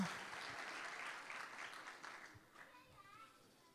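Applause at a Christmas Sunday School celebration in a church, broad clapping from the congregation that starts strong and gradually thins out, with a few children's voices audible underneath.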